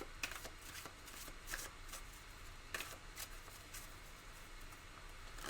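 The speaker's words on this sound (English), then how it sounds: "And I keep forgetting to shuffle those cards." A deck of playing cards is shuffled during a tabletop dice baseball game, with a few quick riffling bursts between quieter handling, close and fairly faint, no talking.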